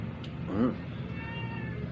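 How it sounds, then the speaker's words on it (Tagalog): A single short cat meow close by, rising then falling, followed by quiet room noise with a faint tone in the background. "umiingi na yung pusa"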